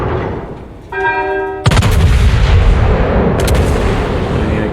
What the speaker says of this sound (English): Fire again, because my guns reload.